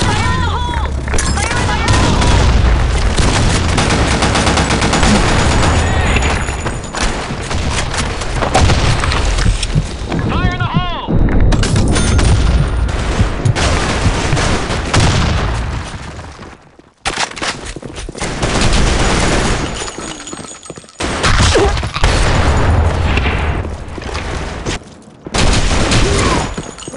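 Heavy video game combat with a bomb blast and sustained gunfire, dense and loud from start to finish with brief gaps, booming explosions and rapid bursts layered together, with voices now and then beneath the din.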